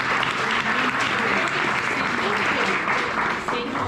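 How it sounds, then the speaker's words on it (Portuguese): A church congregation at a Sunday worship service claps steadily and loudly in sustained applause, filling the room without a break. "Dê uma salva de palmas ao Senhor."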